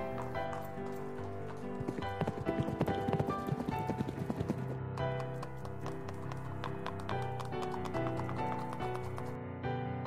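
Horse hooves clip-clop in a steady, fairly loud rhythm throughout, with a denser burst of hoofbeats early on, in the Attack on Titan Tribute Game as a mounted group rides into a deserted village.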